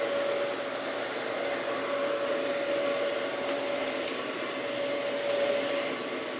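Vacuum cleaner, a Hoover or a Dyson DC14, pushed across carpet: a steady motor whine with a sharp tone holds for the whole stretch, loud and close, with slight swells as it moves and no talking.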